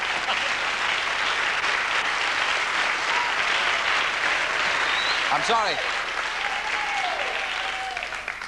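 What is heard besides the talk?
sustained studio audience applause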